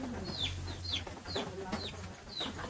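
Chickens cluck repeatedly in a yard, with short sharp calls recurring at a steady pace over low background noise, near and moderately loud, with no talk.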